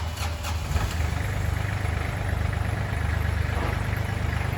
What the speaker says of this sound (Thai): เครื่องยนต์ปกตินะครับ ไม่มีควันขาว